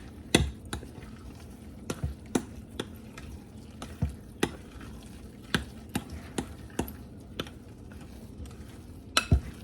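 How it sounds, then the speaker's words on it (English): Cornbread batter for a buttermilk honey skillet cornbread is stirred in a bowl, with quiet scraping and a series of sharp spoon taps against the sides, roughly one every half second to second. "It says stir well, so you're gonna stir it up real well."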